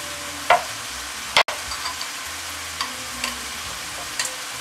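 Soy sauce poured into a hot pan of cabbage and shiitake mushrooms over medium heat, giving a steady soft sizzle broken by a few sharp spatters and clinks.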